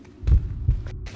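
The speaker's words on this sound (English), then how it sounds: "And I hear a heartbeat." Heartbeat from the horror video game Dungeon Nightmares 2, two deep, loud thumping beats in a slow lub-dub rhythm, close and heavy with a low rumbling hum, no talking over it.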